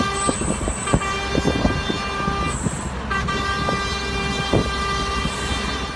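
Air horns blare from a circumcision celebration convoy of vehicles driving along the Pamukkale road, sustained loud horn tones layered with repeated short toots over steady engine and road noise, with no talking.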